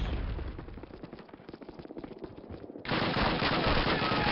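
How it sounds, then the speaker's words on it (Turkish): Call of Duty 1 combat: rapid gunfire rattles steadily for a few seconds, then a grenade blast hits suddenly, leaving a loud, sustained roar that fills the rest of the moment. "Şuraya şöyle bir tane bomba sallayayım arkadaşlarım ben"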